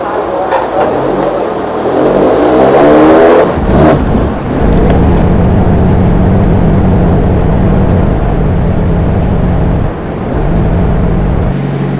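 A turbocharged Miata engine runs on a dyno held near 1400 RPM, a loud, close, continuous engine rumble and whir that swells briefly early on, then settles into a steady drone with one short dip near the end.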